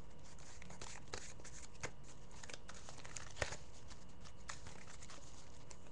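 A deck of Dragunity trading cards is shuffled by hand, giving soft, quiet riffling and papery patter with a few small snaps, with no talk.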